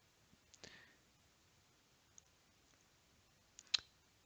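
A computer mouse clicks faintly, a soft double click near the start and a sharper click toward the end, set against near silence.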